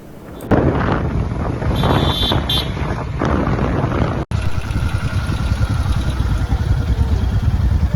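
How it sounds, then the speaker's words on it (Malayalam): A motorcycle ride in a four-bike group with Hunter, Himalayan, Yamaha and Honda bikes near Lonavala, captured from the pillion seat: steady engine drone under heavy wind rush, with a horn toot early and a brief dropout midway. "ഞങ്ങള് 4 ബൈക്കിലാണ് പോയിക്കൊണ്ടിരിക്കണേ"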